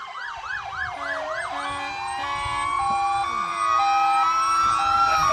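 A Philippi Fire Department fire engine passes in a parade, its siren wailing loud and close and rising and falling, then settling into a steadier tone over rumbling engine noise.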